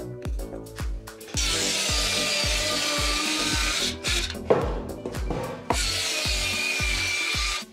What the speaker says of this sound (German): Das ist immer ganz praktisch, wenn man die von hinten sägt, dann, ja, dann reißen die Kanten beim Holz nicht so aus.